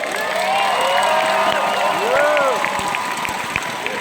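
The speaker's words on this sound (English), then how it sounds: "please give a warm round of applause for our special guest speaker, Pastor Dan Vera." A church audience applauds and cheers for a guest speaker: a sustained wash of clapping from a large crowd, mixed with whoops and a few raised voices.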